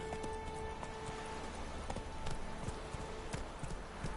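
Hooves of Roach, a horse in a video game, clip-clopping in a quick steady rhythm under a constant background wash of ambient game sound.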